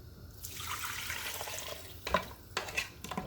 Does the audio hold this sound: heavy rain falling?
no